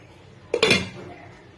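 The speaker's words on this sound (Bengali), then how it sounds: "এবার জলটা দিয়ে একটু নাড়াচাড়া করে ঢাকা দিয়ে দেব।" A pot lid clatters down onto a pot of chicken curry after a brief stir, a single close metallic clink with a short ringing tail, alone in a quiet kitchen.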